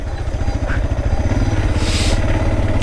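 A stock Suzuki DR650 motorcycle carries a passenger off-road. The engine thumps loud and close in a steady, pulsing rhythm, with a clattery mid-range growl and no voices over it.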